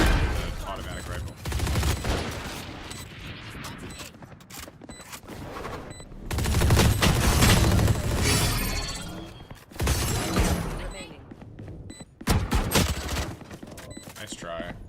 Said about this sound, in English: Try to out pistol somebody with an automatic rifle.